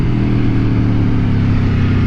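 An Aprilia Tuono V4 1100 Factory motorcycle's V4 engine roars loud and steady at high revs, a dense continuous drone with a strong low rumble up close.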